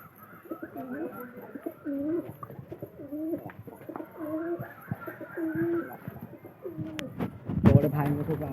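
Pigeons coo in repeated low, rolling phrases close by. Someone talks over them throughout and a sharp clatter or flutter comes near the end.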